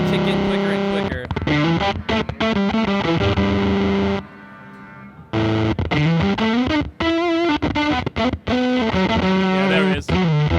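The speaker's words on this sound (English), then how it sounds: "Almost has like this kind of zippery, like weird sputtery kind of sound. So that's the Trapper." Electric guitar through a Fender Trapper fuzz pedal plays loud distorted notes and chords, with a short silent gap, choppy gated cutoffs and a sputtery, zippery decay on the notes.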